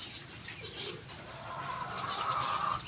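Soft, low cooing from a nearby pigeon, with faint chirps and a light rustle in the background.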